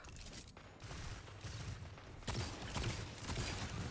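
Gunshots from Destiny 2 ring out in scattered bursts, moderately loud against a busy game soundscape, with sharp cracks clustering in the second half.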